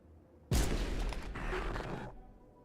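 Gunfire from a gun in a video game, a sudden loud burst of rapid shots lasting about a second and a half, then cutting off to quiet.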